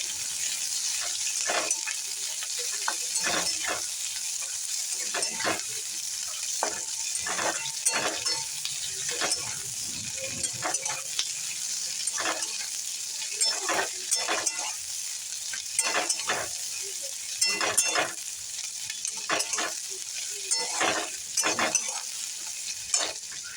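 Ingredients fry in a pan for doi dherosh (okra in yogurt curry), with steady close sizzling and repeated stirring scrapes of a spatula throughout, with no talking.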